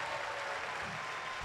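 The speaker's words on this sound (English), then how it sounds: "please join me in giving both candidates a big round of applause" An audience at a county district candidate forum applauds both candidates, producing a continuous, even, fairly quiet wash of clapping with no voices.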